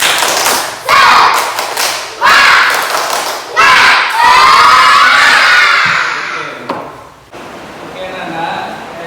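Indonesian schoolchildren in a classroom perform a rhythmic clapping chant, bursts of loud claps and thumps alternating with shouted cheering, ending in a fading murmur of young voices.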